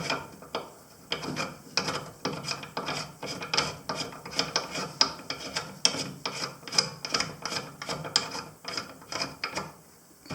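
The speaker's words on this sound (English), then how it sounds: "Once you get it set, you screw that down in there." A crimp die being screwed down into a metal reloading press, giving a close, quiet run of rapid ratcheting clicks and gritty thread-scraping rasps in uneven rhythm.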